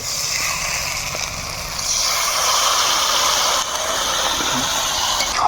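Water hits a hot pan of jackfruit and prawns cooking for a Bengali curry, and a loud, continuous steamy hiss rises and swells partway through, then holds steady.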